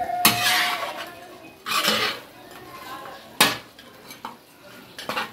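A spoon or spatula clatters and scrapes in a pan while mutton chops masala is mixed on a tawa, with several sharp metallic knocks separated by softer stirring and a faint sizzle underneath.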